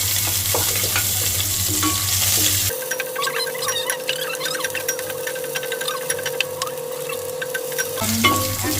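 Sliced onions dropped into a hot frying pan, setting off a loud, steady sizzle with crackling bursts. The frying keeps going for several seconds, then cuts back to a quieter hiss, with no talking over it.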